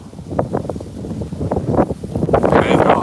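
Strong outdoor wind gusts buffet the microphone in a steady, rising roar, growing louder toward the end, with a voice talking faintly underneath.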